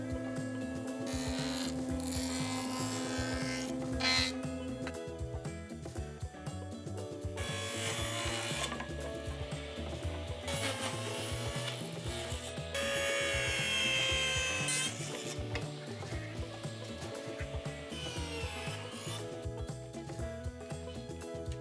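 Table saw rips recycled skateboard wood into strips in repeated loud passes, with bursts of harsh cutting noise over a steady motor hum, close up and with no talking.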